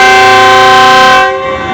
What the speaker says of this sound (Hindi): फरीद एक्सप्रेस 4570 के साथ डेरा नवाब से डिपार्चर करते हुए